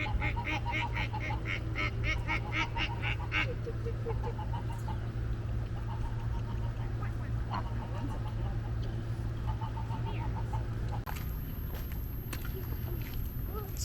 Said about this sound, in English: Looks like there's some geese, some ducks